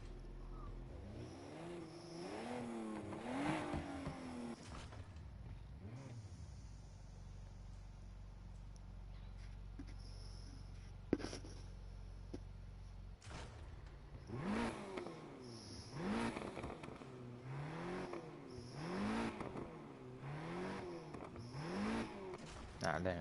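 A 4-litre V8 engine swapped into a small Nissan in the Need for Speed Heat video game revs in rising and falling surges, with a steady low idle in the middle before the revving resumes, heard fairly faintly.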